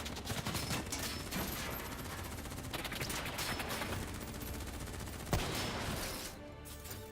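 Heavy, dense gunfire fills a Call of Duty: Black Ops 3 campaign mission, with continuous automatic bursts and one sharper loud shot near the end before the volume drops slightly.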